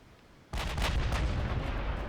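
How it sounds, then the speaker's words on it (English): Heavy 16-inch battleship guns firing in the naval game Ultimate Admiral: Dreadnoughts, a sudden loud booming salvo that breaks out of near quiet and rolls on with dense rumbling thunder. "16-inch guns, doing some damage to the Washington"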